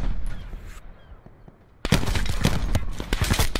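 Gunfire in Call of Duty: Black Ops, a sudden burst of rapid shots cutting in after a quiet stretch, loud and close, continuing in a ragged volley to the end.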